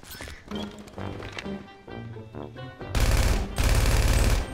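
Gunfire in GTA V, with scattered single shots followed by loud, dense bursts of rapid automatic fire near the end, mixed with game sounds.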